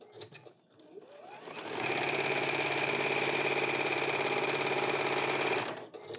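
Sewing machine stitching end strips of quilt fabric onto a scrappy strip block, a steady close whirring run of about four seconds that starts after a brief ramp-up and stops abruptly, with no talking.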